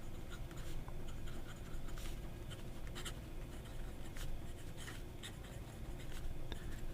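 A Moonman fountain pen with a stub nib scratches across paper in quick, rhythmic strokes, faint but close and steady, with no talking.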